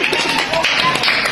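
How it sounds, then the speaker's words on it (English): A group claps for themselves at a Ghanaian STEM quiz event, a dense, fairly loud burst of clapping that runs throughout, with some voices underneath. "clap for yourself"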